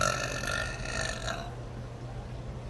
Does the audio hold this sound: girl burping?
yes